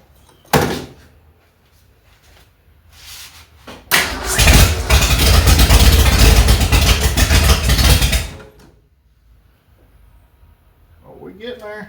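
A rebuilt Ford 289 V8 in a 1965 Mustang cranks and fires, a door-like clunk first, then a loud rough run of about four seconds before cutting out, with people talking nearby.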